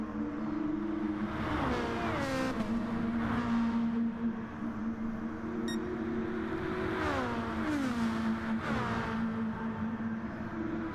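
Sportscar engines race through a sim racing round at the Yamagiwa II circuit, a loud, steady drone with rising and falling revs as cars accelerate, lift off and shift through the S's, continuous throughout.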